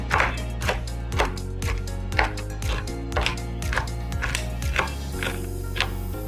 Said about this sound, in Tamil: நட்ஸை சின்ன சின்ன துண்டாக கட் பண்ணி எடுத்துக்கொள்ளுவோம்